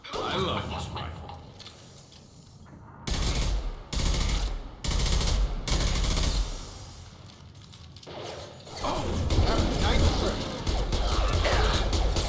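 Rifle fire in Mass Effect 2 comes in sustained loud bursts with brief pauses, mixed with mechanical clatter and impacts, while someone talks over the shooting.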